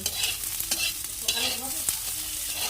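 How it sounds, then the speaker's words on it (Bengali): Bitter gourd frying in a pan, a steady dense sizzle broken by spatula stirs and scrapes, close and fairly loud. "উচ্ছেটাকেও একটু লাল করে ভেজে নেবো"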